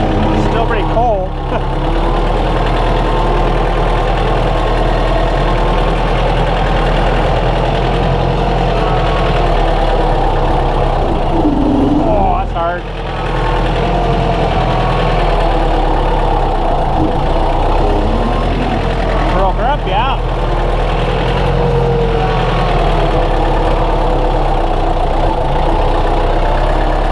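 A Kubota 110TLB tractor loader's diesel engine idles in the cold with a steady, close, unbroken rumble for the whole stretch, and faint voices come through now and then.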